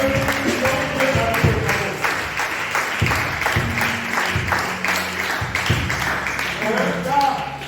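A church congregation claps and calls out in acclaim, loud rhythmic clapping mixed with voices and shouts, with organ-like tones underneath, steady throughout.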